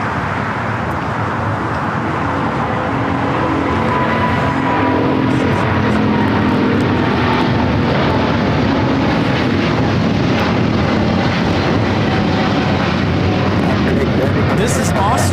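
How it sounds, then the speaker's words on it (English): Austrian Airlines Boeing 777-200ER taking off from LAX toward Vienna: a loud, sustained jet engine rumble and roar filling the whole stretch, with people talking over it. "This is Austrian Airlines Flight 82 taking off to Vienna, Austria on the 777-200ER"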